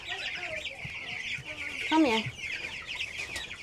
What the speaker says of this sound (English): It's the laying hens now.